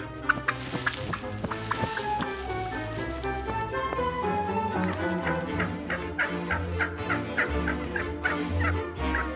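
Large wild turkey hens, around ten pounds each, gobble and cluck in a Canadian autumn forest while taking off with a running start, with a rustling scuffle of feet and wings under continuous layered calling.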